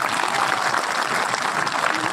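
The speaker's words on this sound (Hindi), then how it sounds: "एक बार सुभाष पूनिया के लिए ताली बजा।" Crowd applause at an outdoor political rally in Buhana, steady and dense clapping throughout, fairly loud and close with no talk over it.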